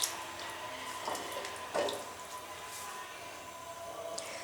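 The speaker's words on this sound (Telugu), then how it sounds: "ఫ్రై అయినాక మనం తగినన్ని వాటర్ వేసుకోవాలి." Water is poured into a pan of frying chicken with potatoes, a faint splashing and hiss with a couple of soft splats.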